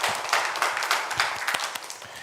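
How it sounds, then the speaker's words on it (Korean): Church congregation applauding during a Sunday service, a fairly quiet, steady patter of many hands clapping together, with a faint voice beneath. "하나님께 영광의 박수 올려드리겠습니다"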